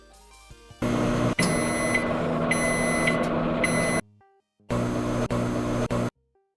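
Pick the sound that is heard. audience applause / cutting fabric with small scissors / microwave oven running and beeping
microwave oven running and beeping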